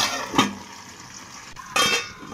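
A lid set on a cooking pan of bitter gourd pickle: two distinct metallic clanks about one and a half seconds apart, with a faint ringing after each, alone and close.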